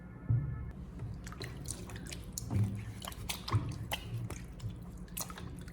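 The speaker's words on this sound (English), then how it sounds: "Gently scrub off the dirt and dust from the skins." Potatoes being scrubbed by hand in a basin of clean water, close up: soft wet squishes, drips and splashy rubbing in irregular bursts, with no voices.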